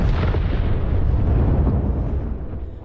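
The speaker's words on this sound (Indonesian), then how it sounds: "di tempat penyimpanan tadi ada 1 nitro yang terjatuh dan membuat ledakan besar." A large nitro explosion in a video game erupts as a loud, sustained rumbling blast that rolls on for a few seconds, with dense low crackle slowly fading toward the end.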